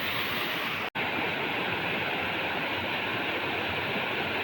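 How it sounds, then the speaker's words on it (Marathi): A small waterfall in the Konkan countryside gives a steady, dense roar of falling water, loud and close, unbroken except for a brief dropout near the start, with no voices. "ह्या इकडे बघा धबधबा"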